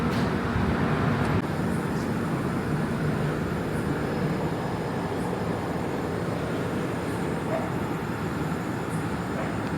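A train on the Rameswaram–Mangalore Express rumbles steadily along the rails near Palakkad Town, a constant low clatter and hum from inside an AC three-tier carriage, with no voices.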